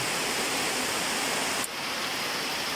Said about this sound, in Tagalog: Lakas yung ulan na naman oh.